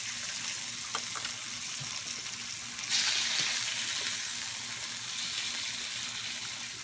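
Pork belly fries in a pan with a steady, close, bright sizzle and spatter, briefly swelling louder partway through and carrying on throughout, with no talk.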